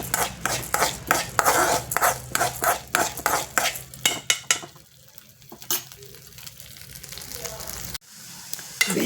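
Coriander seeds dry-frying in a pan for an okra curry, rapid rhythmic scraping and rattling of a spoon stirring against the pan that fades into quieter sizzling, with a little speech.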